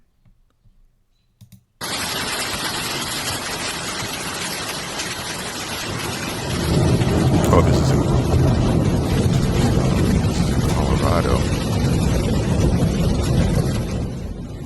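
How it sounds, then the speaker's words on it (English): A storm in Colorado in the early-morning dark, with a steady broadband roar of wind and rain that swells louder midway and stays strong. A few faint sounds and a brief spoken phrase come before it starts. "sounds like there's a storm going on"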